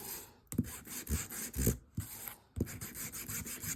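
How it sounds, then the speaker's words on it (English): A playing card is rubbed with fine grit sandpaper in quick back-and-forth strokes, a close, raspy scratching in bursts separated by short pauses, with no talking. "you could just do it with regular fine grit sandpaper"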